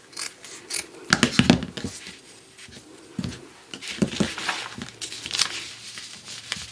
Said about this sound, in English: Then I'll just cut this seam off the top here.